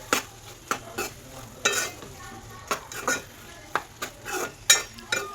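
A spoon stirs ginger garlic paste into an Andhra-style meal maker curry in a pan, giving a steady series of close, distinct scraping strokes over a faint sizzle, with no talking.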